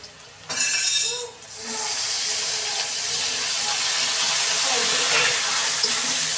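A little water is poured onto spices in a hot cooking pan, setting off a sudden loud hiss that settles into a steady, close sizzle and bubbling with occasional light clinks.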